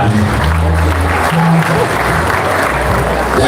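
A congregation at a memorial service claps together in a dense, steady burst of applause. The sound is loud and close and carries on evenly with no pause for the whole stretch.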